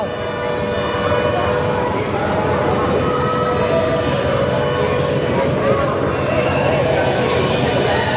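Train rolling along steadily throughout at a crowded fair, with a continuous loud rumble and clatter and people talking over it.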